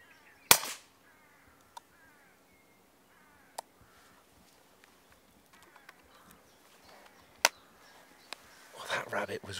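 An air rifle fires while a rabbit is being hunted. One sharp, close crack stands out against a quiet outdoor background, followed by a few fainter clicks and ticks, and brief voices come near the end.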